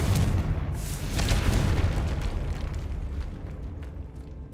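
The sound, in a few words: Confringo explosive spell in the video game Hogwarts Legacy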